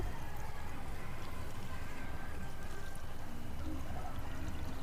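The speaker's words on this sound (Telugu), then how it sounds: "ఈ కొత్తిమీరని కూడా ఈ నీళ్ళు వేయచ్చండి" Water pours steadily onto coriander plants in a home garden, a continuous close splashing trickle.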